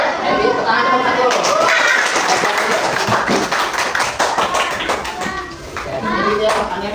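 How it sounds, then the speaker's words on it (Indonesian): A class of schoolchildren applauding a student group after its presentation, rapid scattered clapping that keeps going for several seconds under children's chatter and an adult voice. "Tepuk tangan kelompok 1"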